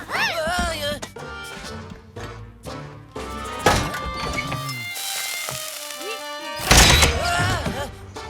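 Cartoonish cannon blasts boom out in a busy, chaotic scene, with heavy thuds and crashes amid music and excited voices.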